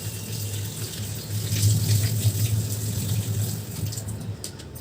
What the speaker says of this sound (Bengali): ভালো করে ধুয়ে নিতে হবে, নাহলে বালি বালি লাগলে কিন্তু খেতে ভালো লাগবে না।